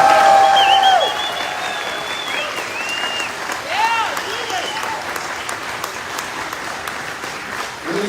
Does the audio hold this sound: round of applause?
yes